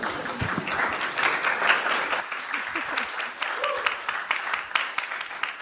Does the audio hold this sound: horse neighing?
no